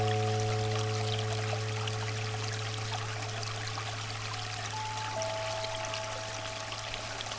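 Water flows softly in a continuous trickling stream, quiet and even throughout, over a low steady tonal hum with a few faint sustained tones, with no voices.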